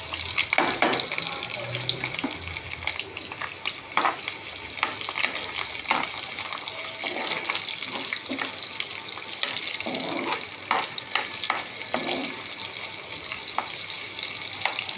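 Onion and green chillies going into hot oil for frying fish roe, giving a steady broadband sizzle with scattered crackles and light utensil clicks, fairly close and continuous throughout with no talking.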